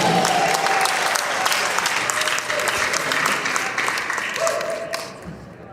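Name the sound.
audience applause for Angela on stage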